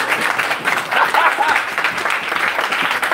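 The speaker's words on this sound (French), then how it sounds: "Applaudissez pour vous-même alors." A church congregation applauds itself, producing a dense, loud wash of clapping that holds steady for a few seconds with no voices over it.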